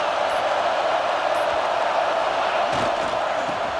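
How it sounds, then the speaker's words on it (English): A stadium crowd roars steadily in EA Sports College Football 26 as the defense takes the field in the red zone, a dense, sustained wash of cheering with no break throughout. "this crowd getting behind its defense"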